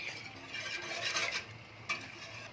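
A spoon stirs béchamel sauce seasoned with salt and black pepper in a pot, giving soft repeated scraping and swishing strokes up close, with one sharper scrape near the end and no voices.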